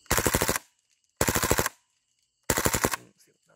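A KWA Kriss Vector gas blowback airsoft gun firing full auto, three short, loud bursts of rapid clacking shots separated by brief silences, close by.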